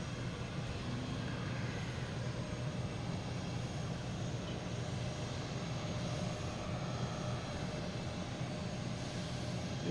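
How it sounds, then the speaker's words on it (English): A JetBlue Airbus A321 arriving from Cancun at Boston Logan International Airport produces a steady, broad jet engine roar, distant and moderately faint, holding evenly without breaks. "We have a JetBlue coming in from Cancun. Oh, there it is. An A321"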